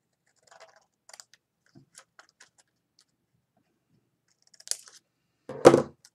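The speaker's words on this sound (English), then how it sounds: "just cut that off" Scissors snip a tiny piece of paper or card off a tea light candle box craft, a few quiet clicks followed by one louder, close crisp cut.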